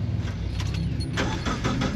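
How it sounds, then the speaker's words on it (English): A tow truck carrying a disabled vehicle on its back drives past at the Daytona endurance race, giving a steady, close engine rumble with a low drone that swells slightly as it goes by. "here comes a tow truck with a third disabled vehicle on the back of it"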